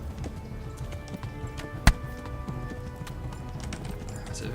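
Horse hooves galloping in the video game Kingdom Come: Deliverance II, a steady rhythmic clip-clop under a constant game ambience with a single sharp knock partway through.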